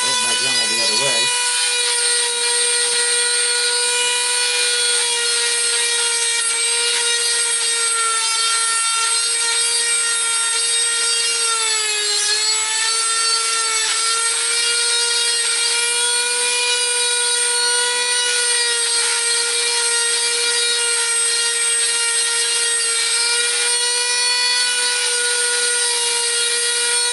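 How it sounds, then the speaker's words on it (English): A Dremel rotary tool carving wood for a goblin wood spirit, a steady high-pitched whine running continuously at close range, dipping slightly in pitch midway as the bit bears into the wood. "I'm going to hold my Dremel the other way."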